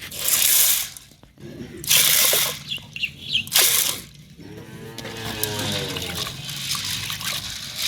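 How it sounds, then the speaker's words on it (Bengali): Lentils are swirled and rinsed in water in a bowl, with loud bursts of sloshing and rubbing followed by softer trickling and dripping, close by. "এখন এই যে কলাই আজকে ঘাটি করবো, এই জন্য কলাইটা নিয়ে ধুয়ে নেব।"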